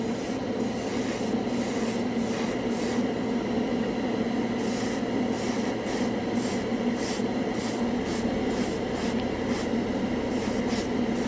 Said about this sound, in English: I'm not getting wide lines because I'm using a thin needled airbrush